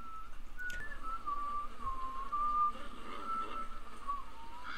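A single person whistles a slow, wavering tune in a scene from the Telltale Game of Thrones video game, moderately clear over a low ambient background.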